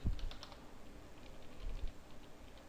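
Rapid, quiet keystrokes clatter on a computer keyboard in a steady, continuous run, close but soft, with a couple of duller thumps from the desk underneath and no voices.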